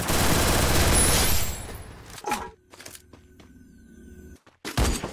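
Gunfire in the video game Free Fire as a player is killed, with a loud dense burst of rapid shots at the start that drops to scattered thuds and sharp cracks.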